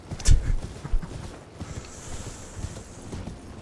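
A horse's hooves clip-clop in Elden Ring, Shadow of the Erdtree expansion, a few heavy thudding footfalls near the start followed by softer, uneven steps under a faint ambient game backdrop.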